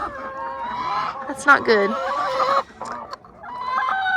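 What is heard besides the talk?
chickens clucking in a backyard flock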